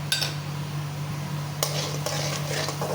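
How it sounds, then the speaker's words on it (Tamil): Mustard seeds with urad and chana dal are stirred in hot oil in a pan for cabbage poriyal: a low steady sizzle with a few scraping, clinking spoon strokes against the metal. "நல்லா கிளறிக்கோங்க."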